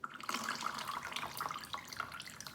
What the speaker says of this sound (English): We squeezed it and out came the rain.